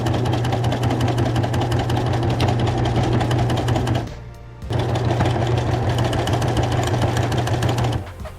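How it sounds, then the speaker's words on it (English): A sewing machine stitching thick thread runs steadily with a rapid mechanical whir, pausing briefly midway before resuming, close and loud. "I'm just sewing here while Ashley is cutting out the patterns."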